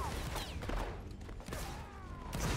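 Musket volley in a video game battle, a crackling burst of massed shots spread through a dense, noisy backdrop of game sound.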